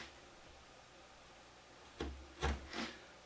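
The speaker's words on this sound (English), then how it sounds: "So I'm just cleaning up these saw marks. And while I'm chiseling" A chisel pares saw marks off a wooden mash paddle in a woodworking shop: quiet stillness, then three short scraping, shaving strokes close by, the middle one loudest.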